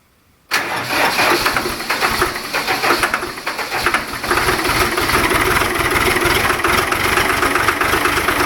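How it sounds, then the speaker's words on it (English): A diesel engine, warmed by glow plugs, cranks briefly in single-digit cold, catches with an abrupt roar after a moment of quiet, then settles into a loud, steady, rough idle close by. "I'll actually use the glow plugs now and we'll get her to crank up."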